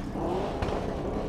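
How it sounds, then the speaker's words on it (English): Motorbikes rev and start up at an outdoor car meet, with one engine rising in pitch amid a steady background rumble and crowd noise. "The bikes are getting started up."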